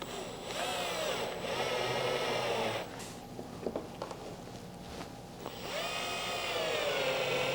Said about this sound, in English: just take those other 2 screws, put your drill down on a low setting